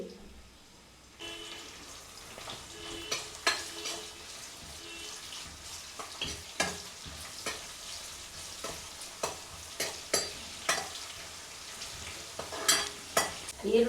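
Onions fry in plenty of oil in a pan on a home stove for a Sunday meal, a steady close sizzle broken by repeated sharp scraping and clattering strokes of a spoon stirring them, loudest toward the end.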